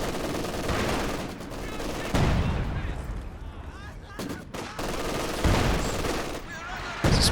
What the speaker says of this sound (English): There's a barrage on the machine gun